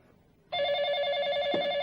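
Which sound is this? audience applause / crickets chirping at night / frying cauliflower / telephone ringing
telephone ringing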